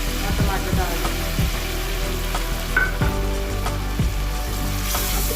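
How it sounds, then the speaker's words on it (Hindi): Ginger garlic paste and tomatoes fry in a pan over onions browned for aloo gobhi, giving a loud, continuous sizzle with scraping stirs throughout. "अदरक लहसुन और टमाटर डाल के थोड़ा सा इसको भूनेंगे।"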